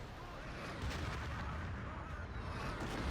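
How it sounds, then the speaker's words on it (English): Artillery strikes a mosque in Battlefield 2, heard as dull rumbling blasts and bursts of gunfire rolling through a noisy, fairly distant battlefield wash. "Luyent dropping the artillery on the mosque"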